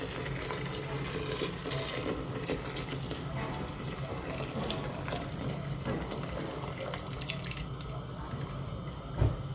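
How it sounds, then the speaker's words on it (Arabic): Hot water is poured over lentils in a pot for boiling in a home kitchen, a steady soft rushing and trickling that runs throughout at low level. "حطيت له مي سخنة"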